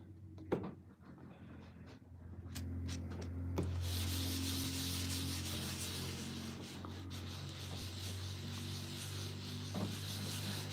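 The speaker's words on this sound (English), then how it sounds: "we're just watching, getting all like the sanding done now on this part" Sanding of a designer toy part, a steady close rubbing and scraping that carries on for several seconds after a few sharp taps at the start, with no talking.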